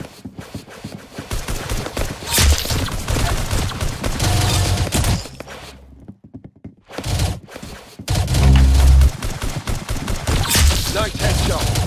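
Rapid bursts of gunfire from the Roblox game Arsenal fill the scene, with dense volleys and sharp shots, a brief lull in the middle and then a loud, heavy burst. A voice speaks briefly over the shooting.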